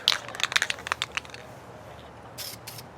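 A camo coat is sprayed onto Samick Sage bow limbs in a light first pass: a few faint clicks and rattles, then two short, soft hissing spray bursts near the end.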